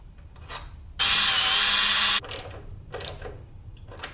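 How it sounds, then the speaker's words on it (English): A ratchet spins off a 10mm nut beside the left front strut on a BMW F80 M3, a dense, steady burst of fast clicking lasting about a second, with faint handling noises around it. "Next, we're going to undo this 10mm nut over here by the left strut on the driver's side."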